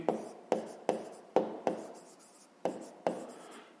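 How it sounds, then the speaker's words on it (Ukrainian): A pen scratches across paper in about eight sharp, separate strokes at an uneven pace, close and clear with no speech. "Записуємо тоді третє."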